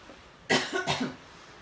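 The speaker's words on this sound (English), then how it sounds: "didn't want to cough at everyone" Two quick, harsh coughs in close succession, close to the listener, followed by quiet.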